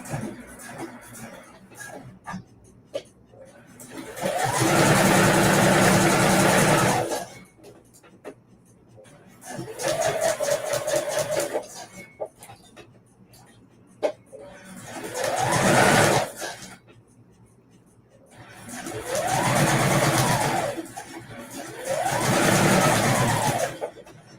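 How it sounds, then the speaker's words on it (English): A home sewing machine stitches a curved seam through fabric in five bursts of running, each lasting a few seconds with brief quiet gaps, loud and close, with no talking. "I'm gonna sew with the curve to the machine, even though my pins are the other way."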